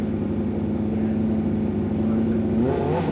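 Ultimate Street Bike final in 1988 drag racing, a streetbike engine droning steadily at high revs, then climbing in pitch as it powers away, loud and close with no talk.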